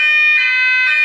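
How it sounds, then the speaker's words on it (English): A building fire alarm sounds continuously throughout, a loud, steady electronic tone with strong harmonics that swells slightly twice, heard alone with no talk. "Is that a fire alarm?"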